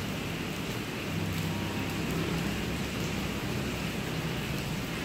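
Heavy rain that has been falling since the afternoon, a loud, continuous wash of drops on surfaces, steady throughout with nothing else audible.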